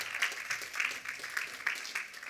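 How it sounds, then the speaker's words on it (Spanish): Church congregation claps in a loose rhythmic pattern, roughly steady beats of many hands at a distance, fairly faint and with some background voices under it. "Aplauda, aplauda al Rey de Reyes"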